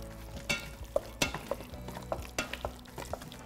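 Sausage stirred in a pan with onion while making an Instant Pot lasagna, giving scraping utensil strokes and scattered knocks over a soft frying sizzle, close by and with no talking.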